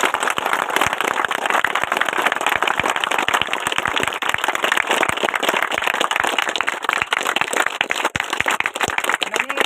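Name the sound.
applause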